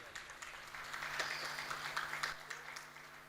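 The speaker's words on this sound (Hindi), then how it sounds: "तो एक बार पुनः ताली बजा दीजिए।" An audience claps together at a Hariyali Teej festival gathering, a faint, steady patter of applause lasting a few seconds.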